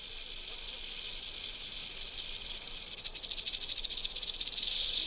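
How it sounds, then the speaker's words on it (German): An eastern diamondback rattlesnake shakes its rattle in a steady, dry buzzing hiss that swells and pulses faster toward the end, close and alone with no voices. "Das Geräusch selbst hängt von der Größe der Schlange und der Länge ihrer Rassel ab."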